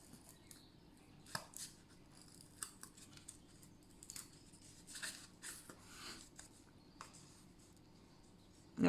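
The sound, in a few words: cutting small circles out of thick cardboard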